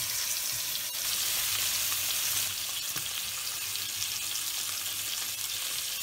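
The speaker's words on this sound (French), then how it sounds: "On vient attraper notre côte et on la fait également dorer sur la tranche" A pork chop sears in a hot frying pan, its edge pressed down to brown, giving a loud, steady sizzle and crackle with no talking.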